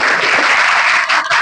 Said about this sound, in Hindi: इनके लिए ताली बजा दीजिए